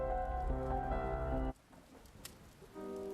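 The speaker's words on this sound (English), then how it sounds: "I'm not going out in that rain again." Steady rain falling in the video game One Eleven, a soft wash of patter on surfaces heard at low level, briefly under a sustained musical tone before and after it drops out.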